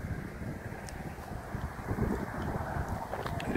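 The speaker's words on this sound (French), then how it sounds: "par contre j'ai un vent de face" A headwind buffets a cyclist riding along a riverside path, making a steady low gusting roar close to the microphone.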